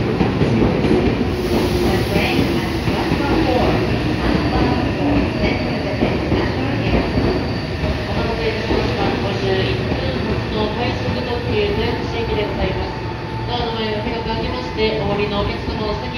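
A Meitetsu 3150 series train pulls into Kanayama station, its rumble and wheel noise filling the platform loudly and steadily throughout, with station announcements and crowd voices layered over it.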